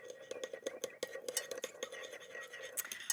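Quick clinking and scraping of a utensil stirring chilli sauce in a bowl, a rapid series of light taps that gets more irregular toward the end.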